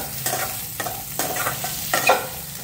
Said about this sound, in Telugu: సాల్ట్ వేసుకున్న తర్వాత ఒకసారి మనం దీన్ని కలుపుకోవాలి.